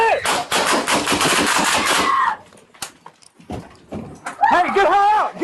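Police gunfire at an armed suspect during a Knoxville search: several sharp, loud bangs ring out close by, mixed with frantic shouting voices before and after the shots.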